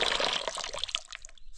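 Water flowing from a newly restored supply, a steady broadband rush and splash that runs continuously and fairly close, dropping briefly before picking up again at the end.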